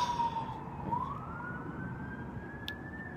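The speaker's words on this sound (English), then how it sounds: "been a lot of sirens today for some reason." Emergency vehicle siren wailing outdoors at a distance, a single faint tone slowly rising in pitch over steady background rumble.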